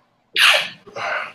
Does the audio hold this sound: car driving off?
no